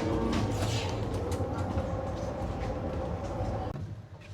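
The Cox's Bazar Express train rumbles along steadily, heard from inside a cabin coach, with rhythmic rattling and a loud, continuous low roar that eases slightly toward the end.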